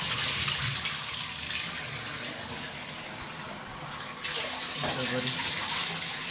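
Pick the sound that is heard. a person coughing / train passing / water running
water running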